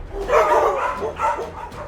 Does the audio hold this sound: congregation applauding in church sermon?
no